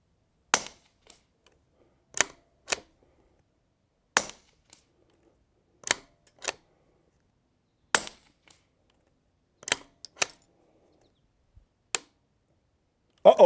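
Rimfire rifle fired with Eley Ultra Gen 2 ammunition, a string of sharp close cracks at irregular intervals, some closely followed by a second lighter clack, with near silence between.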